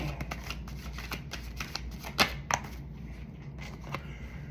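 Tarot cards are riffled and shuffled by hand, close up, with a run of soft flutters and taps and a couple of sharper snaps partway through, and no voices.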